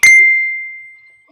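A single bright ding from a phone's text message alert, clear and close, rings out and fades slowly over about a second, with a faint rustle at the end.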